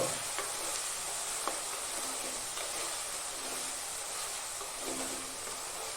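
A pan of country bean curry being stirred, a constant close hiss of simmering and sizzling with occasional soft spoon scrapes and clicks at an even, moderate level throughout.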